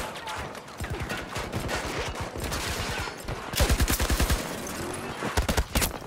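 An RPT-31 light machine gun fires in Battlefield 2042 in loud, rapid automatic bursts, with heavy, punchy rounds in a tight rhythm and some brief pauses between strings.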